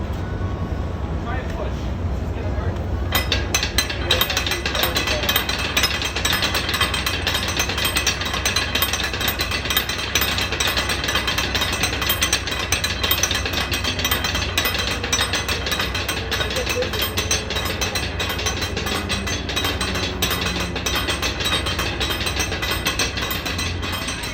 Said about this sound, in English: you hear that noise, right? That is to use to raise the anchor.